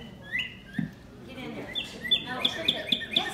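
A bird chirps at a nature center, a rapid series of bright, high repeated tweets that grows toward the end, heard close under murmuring voices and outdoor background noise.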